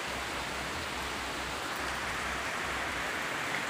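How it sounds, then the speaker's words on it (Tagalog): Heavy rain pours steadily at a cemetery, a dense, unbroken hiss with a low rumble that stays even and close throughout, with no voices. "sobrang lakas ng ulan dito"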